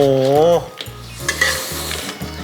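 Crab with curry powder is stir-fried in a wok over a raised flame, a loud close sizzle broken by repeated scraping stirs in a steady rhythm, with no voices.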